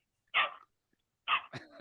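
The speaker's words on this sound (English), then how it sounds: "Oh my god, what a nasty dog." A hostile dog gives two sharp, close barks about a second apart, the second followed by a rougher, throaty burst, with silence in between and no talk.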